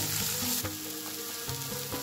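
Okra (bhendi) stir-fried in an open pan crackles with a steady close sizzle, punctuated by a few soft scraping strokes of the spatula.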